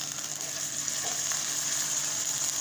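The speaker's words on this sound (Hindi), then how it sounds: "फ्राई हो रहा है चिकन यहाँ पर।" Chicken pieces frying in a pan, a steady close sizzle with faint crackle running evenly throughout, no talking.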